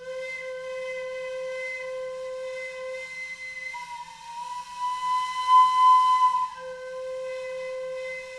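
A hand-carved flute blown with heavy breath pressure holds a steady, breathy tone, then briefly breaks upward into a shrill, wavering whistle tone before settling back onto the original note.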